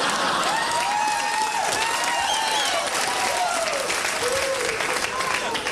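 Comedy club audience applauding steadily for several seconds, dense continuous clapping with some cheering mixed in, no talk over it.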